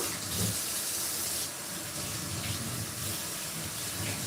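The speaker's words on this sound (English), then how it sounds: "Just going to put some water in a kettle." Tap water runs into a kettle in a home kitchen during cooking, giving a steady, close hiss and splash that continues throughout with slight shifts in tone as it fills.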